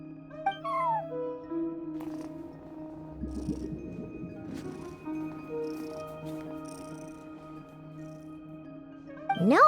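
A synthesized cat meow from Genshin Impact, a cat at a front desk, rises briefly over a steady layer of game music and ambient tones, with a second short meow near the end.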